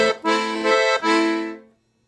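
A piano accordion plays a samba exercise that combines both hands: three sustained, rich reed chords with a rhythmic bass, each note held and cleanly separated, fading out at the end.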